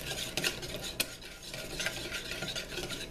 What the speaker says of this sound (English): And then we'll just stir that up.